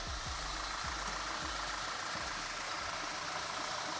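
An Audi Q5 with a faulty mechatronic unit idles with a gear engaged, a low steady engine hum with faint periodic knocks and a broad hiss of air and fans throughout.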